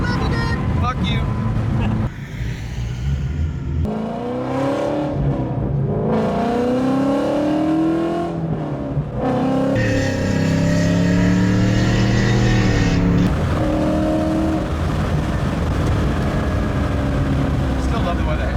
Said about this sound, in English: right when you're revving the shit out of it